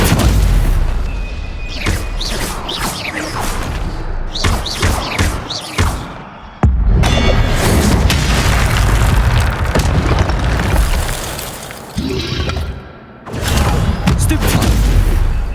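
Spells such as Incendio and Stupefy are cast in combat in the video game Hogwarts Legacy, giving repeated loud booms, fiery bursts and heavy impacts in rapid succession, with a couple of brief lulls between dense, continuous blasts.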